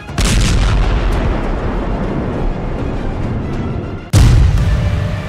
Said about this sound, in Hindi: जब हिजबुल्लाह के ठिकानों पर इजराइल का बम गिरता है तो धमाका बड़ा होता है।